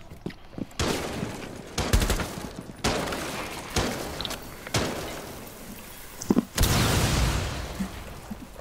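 Gunfire traded during a Rainbow Six Siege match: loud, sharp bursts of automatic fire and single shots with heavy thuds, recurring roughly every second, some volleys longer and echoing.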